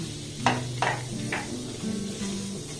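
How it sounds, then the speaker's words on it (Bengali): Semolina frying in ghee over a low flame crackles softly while a spoon stirs it in a few short scraping strokes, with a faint steady hum underneath. "গ্যাসের ফ্লেমটাকে একদম লো রেখে এবার সুজিটাকে আমি একটু আলতোভাবে নাড়াচাড়া করে ভেজে নেব।"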